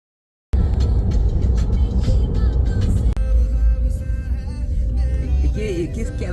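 Inside a moving car on a road in Canada, a loud, continuous low engine and road rumble fills the cabin, with wind and tire noise and a brief knock partway through.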